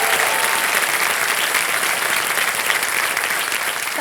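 Dense, loud applause from the studio audience of the quiz show Kaun Banega Crorepati, a steady wash of many hands clapping together without a break.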